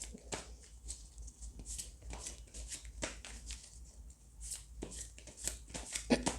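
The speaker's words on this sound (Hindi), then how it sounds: "So okay, let's shuffle the cards a bit." Tarot cards being shuffled by hand, a run of quick riffling, flicking bursts at close range, fairly soft and irregular, with brief pauses between handfuls.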